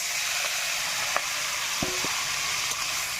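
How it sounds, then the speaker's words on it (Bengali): Shrimp fry in hot oil in a wok with a steady, close sizzle and hiss, broken by a few light metallic taps of a utensil, and nobody speaks. "তেলটা গরম হয়ে গেছে মাছগুলো সব ভেজে নেব সবটাই দিয়ে দেবো"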